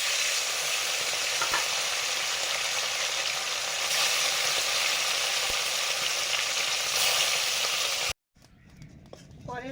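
Amudi fish frying in hot oil: a loud, dense, steady sizzle runs unbroken for about eight seconds, then cuts off abruptly to quieter kitchen sounds with a faint voice.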